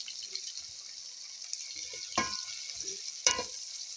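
Eggplant tipped into a hot pan for a Filipino fish-head paksiw, a steady soft sizzle with a couple of louder stirring scrapes and splashes, close and alone.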